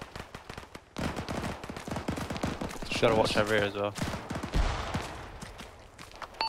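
Rapid bursts of video game gunfire crackle continuously, mixing single shots and automatic fire at mid distance, aimed at a Unimog truck, while someone speaks briefly over a radio-like voice.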